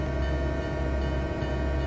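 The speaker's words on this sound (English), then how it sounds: "And it's sort of a vintage freight train. It's got the old Santa Fe F7s on the point and a lot of old 1950s and 1940s era boxcars on it." Vintage freight train in the Trainz simulator game, led by old Santa Fe F7 diesel locomotives hauling 1940s and 1950s era boxcars, a steady low engine rumble and rolling drone held without a break.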